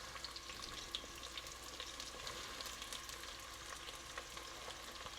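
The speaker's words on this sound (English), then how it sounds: "Get this nice and hot. Now what we're gonna do is we're gonna brown these onions." Onions brown in hot oil in a pot with a constant soft sizzle and crackle, faint and steady throughout, with no voices.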